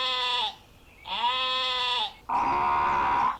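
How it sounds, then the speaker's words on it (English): Sheep bleat three times in close succession, each call a loud, wavering, nasal cry lasting about a second, with short quiet gaps between them and no talking. "Those sound like sheep."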